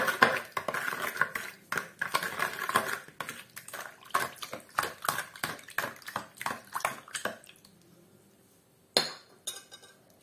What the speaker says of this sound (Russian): Хорошенечко размешиваем.